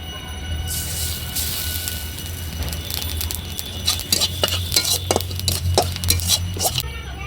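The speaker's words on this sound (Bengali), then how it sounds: "কালা জিরা ভাজতেছি" Black cumin seeds fry in a pan while a metal utensil clinks and scrapes against it, first a soft sizzle, then a burst of irregular sharp taps and rattles close by.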